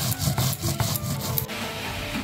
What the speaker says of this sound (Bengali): বেটে নিব শুকনা লঙ্কা।